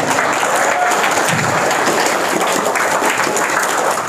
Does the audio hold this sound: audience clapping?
yes